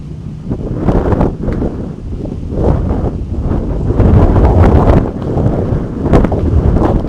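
Strong gusts of wind buffet the microphone in loud, rumbling bursts that rise and fall, with no talking.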